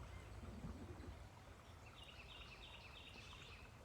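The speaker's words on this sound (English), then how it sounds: "Not a sound, man, just birds." Birds singing outdoors in quiet surroundings with trees around, faint high chirps and short warbling phrases over a low steady background rumble, no voices.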